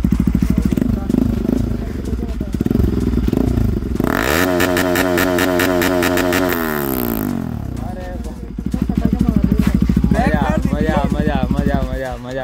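Bajaj RS 200 motorcycle fitted with an aftermarket R1M exhaust, revving hard in sharp, rising bursts with a loud, raspy crackle, and someone talking between the revs.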